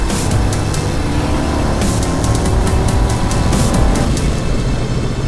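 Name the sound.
motorcycle accelerating, Suzuki GSX-S 750 or Royal Enfield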